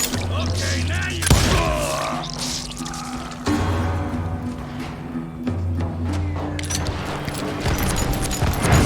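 Gunfire in Call of Juarez: Gunslinger, with several sharp loud shots and booming impacts spaced across a tense game soundscape, some near and punchy, some layered with debris and rattling noise.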